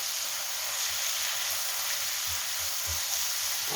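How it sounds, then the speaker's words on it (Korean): Fish cakes sizzling and frying as they are stir-fried in a pan, a steady bright hiss with soft low stirring knocks underneath. "이렇게 볶아주세요"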